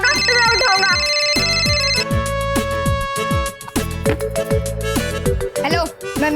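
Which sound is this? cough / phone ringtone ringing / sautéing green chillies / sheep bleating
phone ringtone ringing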